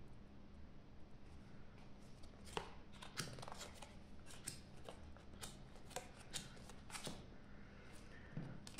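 Fortune-telling playing cards being shuffled, a steady stream of soft, close riffling and flicking snaps at a low level, with no speech.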